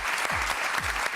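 Steady audience applause for a contestant on a televised talent show, dense and continuous clapping filling the room throughout, with a couple of low thumps underneath.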